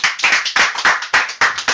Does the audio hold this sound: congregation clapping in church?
yes